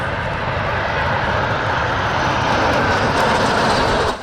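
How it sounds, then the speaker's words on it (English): A pair of historic LIM-2 jets, license-built versions of the Soviet MiG-15 fighter, roar past at an international airshow, a loud continuous engine rush that swells slightly and then cuts off abruptly at the end. "They presented this historic jet pair, two LIM-2s, license-built versions of the MiG-15 fighter of Soviet origin"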